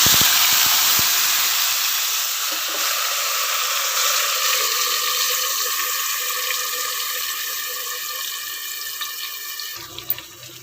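Ground spice paste hitting hot oil in a pan for a spicy Guntur chili egg pickle, a loud steady sizzle and hiss that slowly fades over several seconds with no voices.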